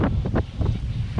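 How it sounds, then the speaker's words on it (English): Blustery wind gusting over a sailboat near an island off Bar Harbor on a brisk morning, a loud, close, low roar buffeting the microphone in rapid surges throughout the short stretch. "Look at the gusts coming off this Stave Island here."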